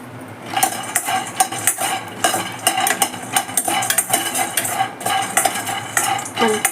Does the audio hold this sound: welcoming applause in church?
no